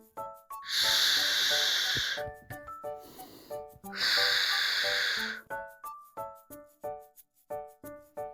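A voice imitates a hedgehog's snorting with two long, breathy hissing snorts, set among soft plucked music notes, close and clear.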